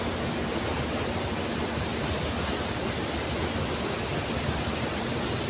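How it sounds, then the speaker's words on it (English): Waterfall near a hotel, heard as a steady, dense broadband roar of falling water that stays loud and unchanging throughout, with no voices. "when I turn again the camera, you can see the waterfall"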